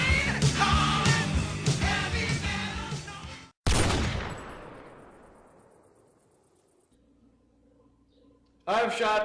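A single loud shotgun blast at a trap shooting range rings out and decays slowly, preceded by a burst of loud music and followed by near quiet before the music returns.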